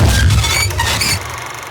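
A jump scare noise from the horror video game Secret of the Mimic, a loud crashing burst with a shattering, squealing edge that swells briefly and then fades into a dimmer electronic tail.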